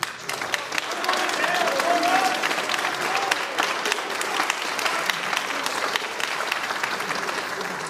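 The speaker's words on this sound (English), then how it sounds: "let us give them a big round of applause" Steady applause from an audience at a school spring music concert, filling the room with dense, close clapping and crowd noise for several seconds.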